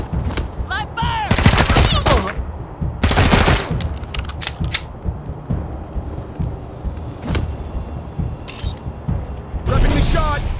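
Rapid bursts of automatic gunfire and single shots in the video game Wasteland 3 crackle loudly across a tense firefight, interrupted by brief pauses, with characters shouting over the combat.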